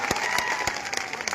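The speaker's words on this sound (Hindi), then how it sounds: "जोर से ताली बजाइए" Applause from a political rally crowd, steady dense clapping with a few sharper claps standing out, filling the whole moment without speech.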